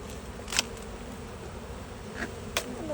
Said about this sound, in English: Hello, bee friends.